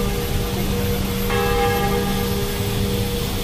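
Church bells of St. Joseph Cathedral in Hanoi ring out across the surrounding area, a steady bright tolling that echoes over a constant hum of city background noise, with no voices.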